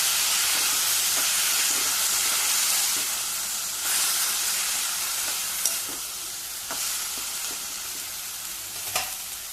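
Hot water poured into a pan of frying lady finger (okra) bhaji, giving a loud steady sizzle and steamy hiss that slowly settles, with faint stirring clicks, no talk.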